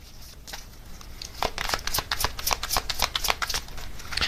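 Tarot cards are shuffled and flipped from a deck by hand, a quick run of crisp riffling snaps and papery flicks building in density, close and clear with no talking.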